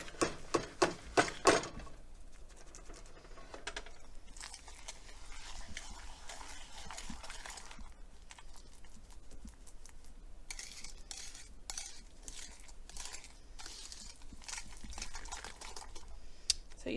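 Eggnog mixture of eggs and sugar being beaten by hand until fluffy, a busy run of rapid clicking and tapping against a bowl, close and fairly quiet, with a few louder knocks at the start and no talking.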